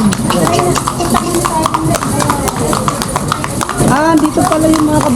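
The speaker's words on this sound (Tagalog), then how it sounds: "Dito pala yung mga kabayo." Horses pulling kalesa carriages in Vigan clip-clop along the street, their steady hoofbeats running under continuous nearby conversation.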